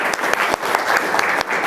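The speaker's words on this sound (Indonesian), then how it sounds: "Boleh, tepuk tangan." A classroom of students claps together in a dense, loud burst of applause that holds steady for a couple of seconds.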